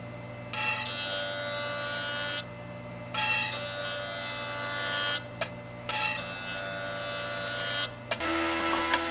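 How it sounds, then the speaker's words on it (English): A jointer machine hums steadily while wooden boards are fed across it in three long passes, each edge-jointing pass adding a loud rasping whir over the motor's drone, then a final clunk as the machine changes tone. "Then I will joint one edge of each of the 4 boards"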